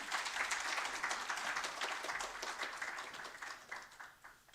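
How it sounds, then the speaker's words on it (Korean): Audience applause welcoming a speaker at a university president's retirement workshop at Yonsei University: a broad wash of many people clapping, steady and fairly distant, slowly tapering off toward the end. "박수로 환영해 주시면 감사하겠습니다."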